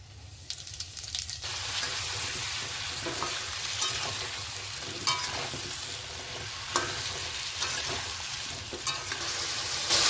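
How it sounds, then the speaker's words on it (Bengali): Potatoes fry in a pan until browned for red, spicy aloo dum, a close, steady sizzle with bursts of scraping as they are stirred, and no speech. "আলু এমন ভেজেছি যাতে সিদ্ধ হয়ে গেছে তখন লাল লাল করে ভেজে নিচ্ছি এবারে"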